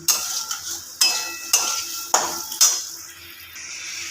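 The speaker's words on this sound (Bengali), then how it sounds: "এবার আমি মশলার সাথে এটাকে নাড়াচাড়া করে নেব" A spoon scrapes and knocks against a pan while lentil curry with spices is stirred, giving a series of sharp clinks roughly every half second over a faint sizzle.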